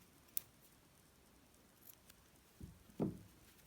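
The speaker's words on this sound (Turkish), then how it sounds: "Fazlalığı kesiyorum." Scissors snip off excess yarn from a spiral-form knitted scarf, giving a few quiet, sparse clicks and a soft cut near the end in a hushed room.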